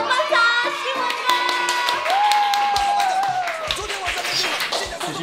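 A live studio audience applauds in welcome of a guest, former class monitor Xixi, with a brisk run of clapping set against an ongoing musical jingle and no talking.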